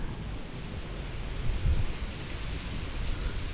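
Rain falls steadily onto a still summer pond where a water boatman swims, making a dense continuous hiss with some low rumbling, close and fairly loud, and no voices.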